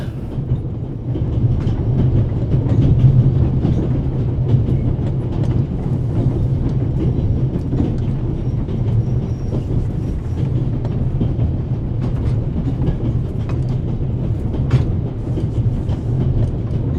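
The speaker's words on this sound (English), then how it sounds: "This train began in Paris and ends in Istanbul as usual." The Orient Express, running from Paris to Istanbul in a video game, gives a continuous low rumble with steady clickety-clack of wheels on rails, heard from inside the train, even and unbroken throughout.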